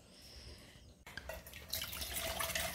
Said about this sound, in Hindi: मम्मी पानी डाल रही है